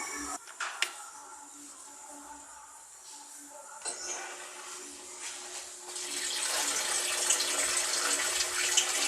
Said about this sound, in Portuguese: Liga a água. Agora vamos ligar a lavadora.